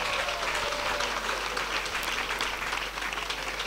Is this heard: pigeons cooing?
no